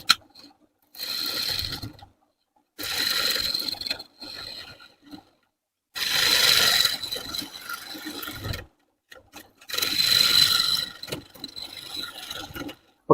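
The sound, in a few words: woodturning lathe removing waste wood from bowl blank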